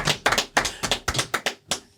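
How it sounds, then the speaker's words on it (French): An audience in a talk-show studio applauds the guest, an artist, with a burst of close, loud clapping with distinct sharp claps in quick succession. "On l'applaudit."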